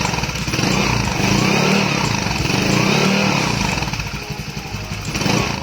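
A motorcycle fitted with a new low-noise aftermarket exhaust runs steadily close by, a smooth, muted engine drone with slight rises and dips.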